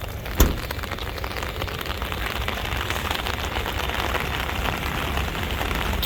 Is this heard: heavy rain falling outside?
yes